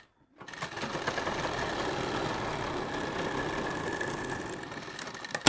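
A sewing machine stitches two strips of fabric together for a sleeve, with a steady, close mechanical hum that starts abruptly after a moment of silence and runs continuously to the end.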